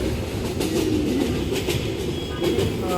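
Passenger train running steadily, heard from inside a carriage on a family trip to Mymensingh in Bangladesh: a loud, continuous rumble with rhythmic clickety-clack of the wheels and faint squeals, no talk.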